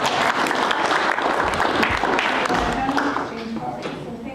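Audience at a chamber of commerce cannabis business panel applauding the panelists, a sustained burst of many hands clapping that stays strong and then thins slightly toward the end.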